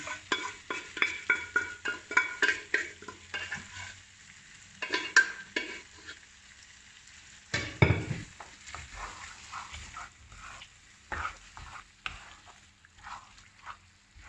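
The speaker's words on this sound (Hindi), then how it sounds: "अब चनों को इसमें अच्छे से मिक्स कर लेंगे।" Chickpeas are stirred into a spinach curry in a pan, giving repeated scraping stirring strokes over a soft sizzle, close and fairly quiet, with one heavier clatter midway and no talking.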